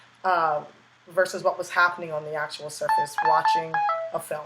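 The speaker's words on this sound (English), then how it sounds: "Sorry, that's my phone." A phone gives off a short run of electronic beeping tones, like a notification, sounding faintly beneath a person who keeps talking.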